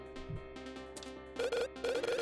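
A phone ringtone in a video game plays as a rapid, bright electronic trill in repeated bursts, moderately loud and alone.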